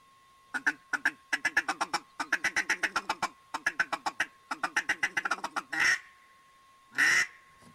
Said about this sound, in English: So your feeding call is more of a chuckle, or not really a quack at all.